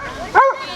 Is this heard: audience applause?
no